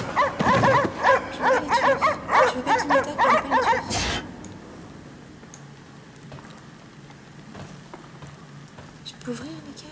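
Dogs bark in the video game Cryostasis, with a rapid run of loud, rhythmic barks for about four seconds ending in a sharp crash, then a quiet ambient hum with faint distant whimpers.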